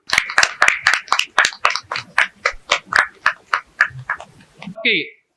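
A crowd of audience members claps loudly in approval at a community celebration, a fast run of sharp, close claps that slows and thins out toward the end.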